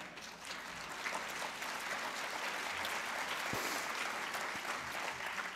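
An audience in a debate hall breaks into sustained applause, a dense, even wash of clapping from many hands that holds steady for several seconds.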